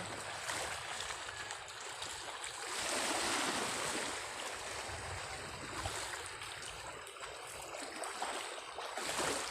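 Rough sea surf pounds and washes steadily during a typhoon, a loud continuous roar of breaking waves with gusts of wind buffeting the microphone.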